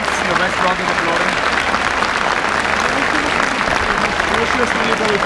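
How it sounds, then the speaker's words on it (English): A stadium crowd at an ISL football match between Bengaluru FC and NorthEast United applauds steadily as an injured player is taken away, a dense continuous wash of clapping with no breaks. "The West Rock is applauding."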